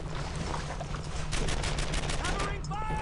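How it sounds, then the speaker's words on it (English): Rapid gunfire in a Brothers in Arms: Earned in Blood World War II shooter battle, dense continuous bursts close by, with a voice speaking near the end. "Covering fire! Keep shooting!"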